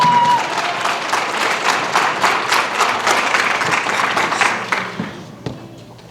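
Audience applause at a pageant, a full room clapping steadily and fairly close, holding strong before tapering off near the end.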